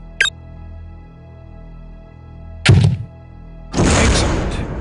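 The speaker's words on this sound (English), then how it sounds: "Now, destroy the target with a grenade." Grenade launcher fire in the video game Soldier of Fortune 2: a sharp click, then a hollow thunk as a grenade launches, followed by a loud burst of noise.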